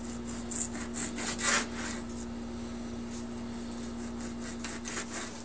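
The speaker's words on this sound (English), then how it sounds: "because it's such a thick steak, I'm just cutting about, I'd say ½ an inch" A knife slices through a thick steak for noodles in repeated short rasping strokes, close and fairly clear against a steady low hum.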